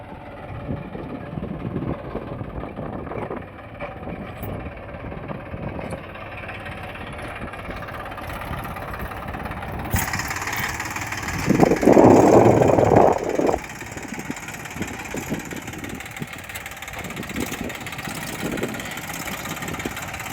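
A Smart 244 tractor engine runs steadily while green-tilling a cotton field with a morpaga implement, a close, continuous mechanical drone with a knocking edge that swells louder for a few seconds midway before settling back.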